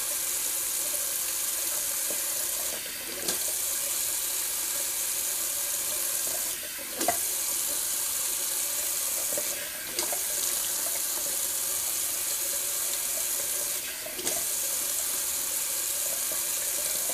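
A bathroom tap runs cold water steadily into a sink, a loud continuous hiss broken by a few brief changes as hands pass under the stream, with no talk.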